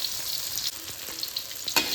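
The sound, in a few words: frying meatballs in a pan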